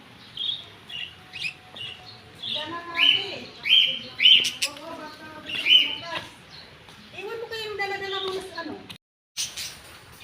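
Several birds chirp and tweet in short bright bursts nearby, with a voice talking over them partway through.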